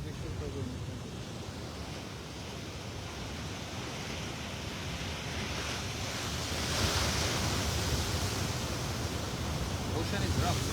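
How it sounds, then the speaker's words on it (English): Rough ocean surf crashing on a beach on the Big Island of Hawaii, a continuous broad roar of breaking waves mixed with wind buffeting the microphone, swelling louder toward the end, with faint voices beneath. "big waves behind you. Big waves, right? It's rough today."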